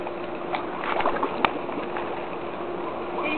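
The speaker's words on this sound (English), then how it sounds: "Watch me do bubbles." Bubbles blown into hot tub water churn and gurgle continuously at close range, with a few sharper splashy bursts rising out of the steady bubbling.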